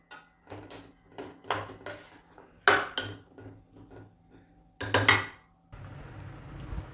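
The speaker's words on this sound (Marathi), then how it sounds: "आता त्याच्यामध्ये ही चिरलेली कोथिंबीर घालूया, अशी मिक्स करून घेऊया एकसारखी" Coriander being mixed into vada filling in a pan: a series of scraping, clinking spoon-against-pan strokes at a steady pace, with a couple of louder clatters and a soft rustle near the end.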